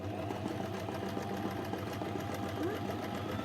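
A basic domestic sewing machine stitching free motion on fabric, a rapid, even mechanical whirring chatter running continuously up close, with no voice over it.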